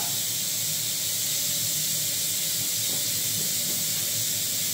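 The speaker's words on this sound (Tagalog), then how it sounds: "Igisa natin, siyempre, igisa muna natin ng mantika." Oil sizzling for a sauté of chicken liver adobo in coconut milk, a steady bright hiss that fills the scene without a break, close and fairly loud, with no talking over it.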